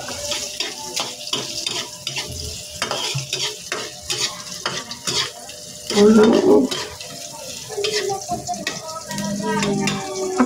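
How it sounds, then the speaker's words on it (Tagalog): Onions cooking in a pan give off a steady crackling sizzle, with scraping and stirring clatter on top and a louder burst of sizzle partway through. "Lutuin lang natin yung sibuyas. Antayin lang natin siya na maluto."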